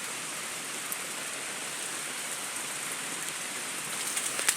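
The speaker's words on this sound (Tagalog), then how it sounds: "lumalakas ng ulan" Steady, dense rain pours down continuously, a loud hiss with scattered drips and patters on nearby surfaces.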